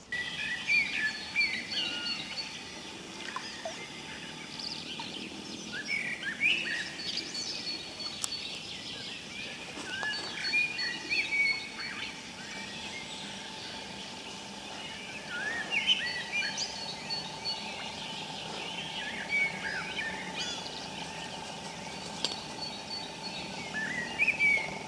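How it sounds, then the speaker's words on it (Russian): Many birds sing and chirp in a spring forest beside a river, with overlapping calls and trills at moderate distance, steady throughout with no talk. "птицы поют просто вообще. Только весной такое бывает."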